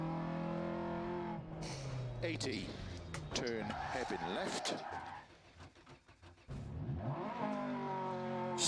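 A rally car engine in Dirt Rally 2.0, a four-gear car, revs and shifts as it climbs and falls through the gears. It is loud and close, with a co-driver calling pace notes over it and a brief drop in engine volume midway.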